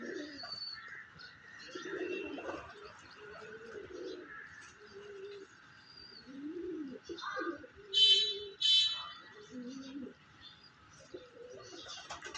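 Purebred pigeons coo repeatedly in low, throaty bursts close by, with a few sharper chirps and a steady background hum.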